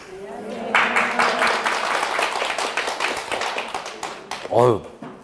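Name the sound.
applause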